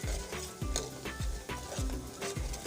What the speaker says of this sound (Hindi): हरे प्याज के पत्ते, थोड़ी देर इसे भूनेंगे।